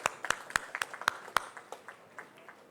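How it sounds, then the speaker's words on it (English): Sparse applause at an event, a handful of distinct claps with a few louder near strokes in an irregular rhythm, fading quickly into faint scattered taps. "A big round of applause, please."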